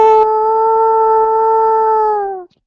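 A voice imitates a wolf howl, one long sustained steady tone held for over two seconds before dropping off, loud and close.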